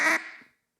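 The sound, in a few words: duck call imitating a wider hen duck quack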